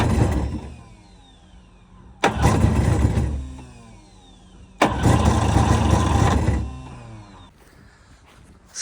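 An engine is cranked twice in close succession, each loud start attempt churning for about two seconds before dying back to quiet, with no voices in between.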